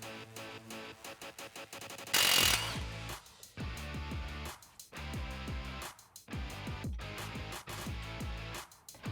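A ratchet works a 13mm bolt out of a spring retainer clip on a Jeep Wrangler TJ, with a burst of quick clicking strokes followed by repeated rhythmic ratcheting bursts, close and moderately loud.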